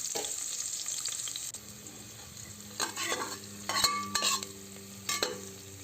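Onions fry in a pan for a home-cooked vegetable pulao, a steady hissing sizzle broken by several clattering stirs of a spoon against the pan toward the end.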